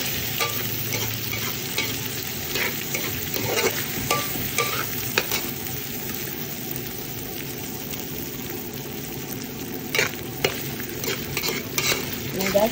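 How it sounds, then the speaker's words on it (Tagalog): Garlic and onion sizzle steadily in a hot pan while being sautéed for pinakbet, with frequent scrapes and clinks of a stirring utensil. No one speaks. "Nagisa nga tayo ng bawang sibuyas"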